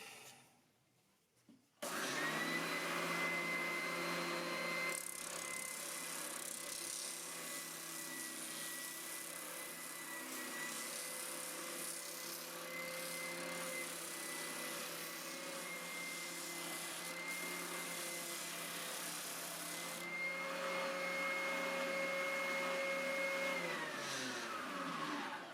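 Steady, loud whine of a power sander working the edges of a wooden charcuterie board, starting abruptly after a quiet moment and droning evenly to the end, with no talking.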